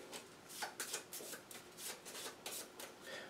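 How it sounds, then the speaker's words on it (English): A deck of virus cards from a board game being shuffled at close range, a quiet run of quick riffling bursts repeating steadily with no voices. "Take the virus cards, shuffle those as well"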